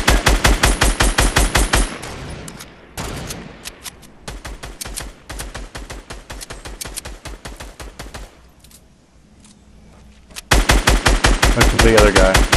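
Rapid automatic gunfire rattles in Fortnite, loud dense bursts at the start and end with quieter distant shooting between, over the game's background sound.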